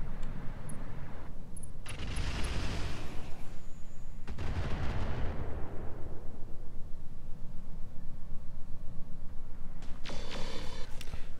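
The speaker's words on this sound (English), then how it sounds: "Just don't fire the auto cannon through the buildings" Autocannon fire in the Roguetech BattleTech game: loud, booming bursts land in heavy rolling blasts, the first around two to three seconds in, another near four seconds, then a crisp burst near the end over a constant low rumble.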